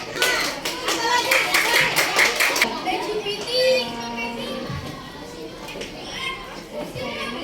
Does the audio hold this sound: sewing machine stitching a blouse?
no